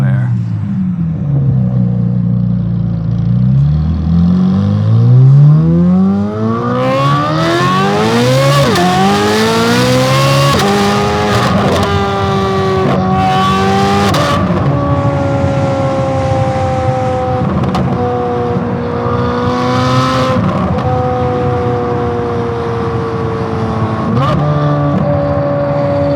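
Chevrolet C8 Corvette Z06 with a full titanium Fabspeed exhaust revving, loud and close, its engine note climbing and falling through repeated sweeping revs over a steady roar.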